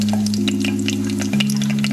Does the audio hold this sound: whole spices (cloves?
yes